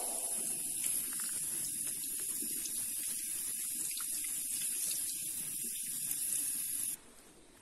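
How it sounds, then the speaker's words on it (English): Water runs steadily from a tap into a sink while meat is washed, with rustling and handling sounds under it, then cuts off near the end. "while washing, we also have to make sure that we squeeze the excess amount of water"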